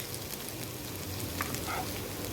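Okra, carrot, potato and green peas fry in oil in a pan, giving a steady, close hiss and sizzle with soft scraping from occasional stirring, no voices.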